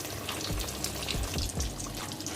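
Fish frying in oil in a pan, a steady dense sizzle with bubbling crackle and a few soft stirring knocks, close and continuous with no voices.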